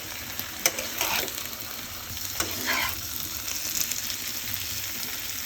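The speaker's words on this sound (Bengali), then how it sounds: "আমাদের চিংড়ি মাছটা ভাজি হয়ে গেছে, এখন নামিয়ে নেব।" Shrimp sizzles in a pan with raw cumin paste and taro, a steady close frying hiss broken by scraping stirs and occasional sharper spatters.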